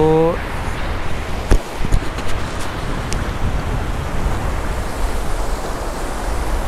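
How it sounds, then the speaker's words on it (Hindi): Fast-flowing snowmelt stream rushing down a snow-covered mountain between Naran and Babusar Top, a steady broadband roar throughout with a few brief knocks and handling bumps near the start. "वही पानी जो है ना वो नीचे आ रहा है बर्फ़ का पिघल पिघल के और आप देख रहे हैं कि कितनी ज़्यादा स्पीड है"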